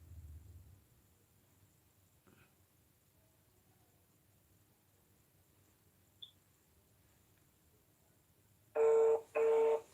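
A phone call rings out while waiting for someone to pick up, two loud steady ringback tones near the end after a long quiet stretch.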